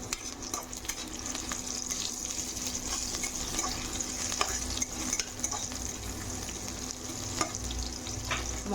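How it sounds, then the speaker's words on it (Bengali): Onions frying in a pan for an egg and potato curry make a steady, close sizzle with occasional scrapes, continuous and unbroken throughout. "পেঁয়াজটা আমার ভাজা ভাজা হয়ে গেছে।"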